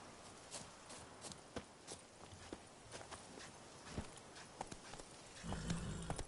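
Hooves of Roach the horse in The Witcher 3 video game, a steady clip-clop rhythm of a running horse, fairly faint, with a louder rumbling swell toward the end.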